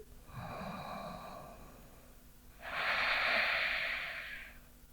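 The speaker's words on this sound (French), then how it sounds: "Toujours la respiration Ujjayi qui guide la posture." Slow audible Ujjayi breaths during a standing Ashtanga yoga posture: a softer hissing breath, then a stronger, louder airy exhale a moment later, close and steady with no talk.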